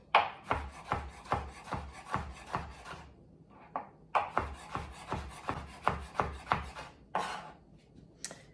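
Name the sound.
knife cutting and dicing a tomato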